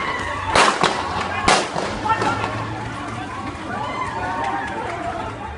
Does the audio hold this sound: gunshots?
yes